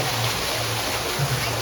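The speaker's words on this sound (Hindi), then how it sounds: "यहाँ से देखो यार कितनी तेज़ी से पानी निकल रहा" Water gushing out fast at an outdoor spot, a steady dense rushing roar close by throughout the brief moment.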